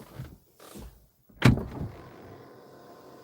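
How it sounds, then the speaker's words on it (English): The door of a Lotus Eletre electric SUV shuts with one sharp, close thud after a brief quiet electric whir, and a soft mechanical hum trails off afterward. "watch what happens when I close the door"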